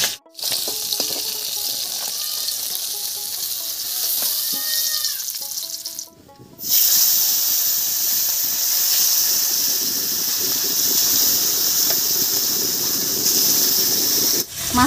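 Pabda fish frying in hot oil, a steady loud sizzling hiss that runs almost the whole time, broken by one brief quiet gap, with faint clinks underneath.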